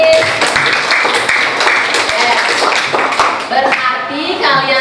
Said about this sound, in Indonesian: Silakan tepuk tangan untuk ini.